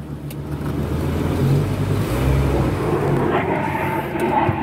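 A 1997 Volvo V70 R AWD engine idles steadily after starting on the key, a close, even mechanical hum with a slight rise in revs partway through and no talk.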